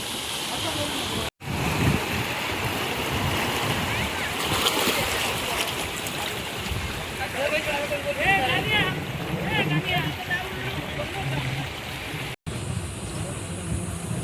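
Waves and water wash steadily along Redi beach in Konkan, a continuous broad rush with a crowd murmuring and people talking over it throughout.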